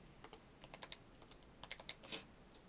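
Numbers typed on a computer keyboard, a quick series of crisp separate key clicks in uneven bursts, close and quiet with no talk.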